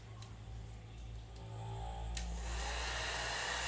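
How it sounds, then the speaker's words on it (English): A Nova NV-1290 foldable hair dryer runs on its first, medium setting, a steady close whirring hum with a broad airy hiss that builds as it spins up. "So let's turn the dryer on and see how it works."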